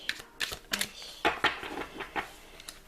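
A deck of oracle cards spread out on a surface gives a series of quick, soft clicks and papery slides, close and fairly faint, with no voice.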